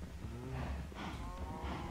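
Cows mooing in the video game Minecraft, a couple of drawn-out low moos in quick succession over a dense background, fairly clear.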